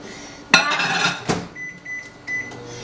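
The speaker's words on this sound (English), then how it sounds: "I'm just gonna pop it in the microwave." A kitchen microwave oven starts up to thaw a frozen sweet treat in a bowl, with a door clunk and button clicks, then a low steady hum broken by a few short electronic beeps.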